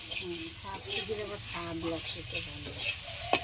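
Leafy greens stir-fry in a hot pan with a steady broadband sizzle, broken by sharp scrapes and clinks of a utensil against the pan. A voice speaks intermittently underneath.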